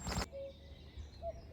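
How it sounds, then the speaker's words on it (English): Along the Camino Frances trail between Belorado and Atapuerca, a distant cuckoo gives soft two-note calls, faint and far off over quiet outdoor ambience after a brief louder noise. "Hear that? Cuckoo."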